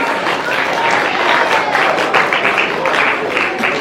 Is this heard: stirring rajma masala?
no